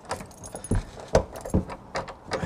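A bunch of keys jangles up close while someone fumbles with a lock, giving a run of irregular metallic clinks and rattles with no speech.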